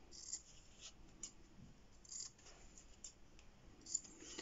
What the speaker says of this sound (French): on va venir couper les angles